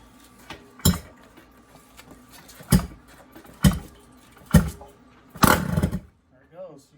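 Five sharp, loud pops from a 1978 Yamaha DT175E motorcycle engine with no muffler as it is kicked over, irregularly spaced, each a brief bang that fails to catch, with faint low-level talk in between.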